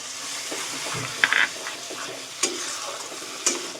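Crab curry masala, loosened with a splash of water, sizzles and fries in a pan while a utensil stirs and scrapes it, with occasional sharp clinks over the steady, close hiss.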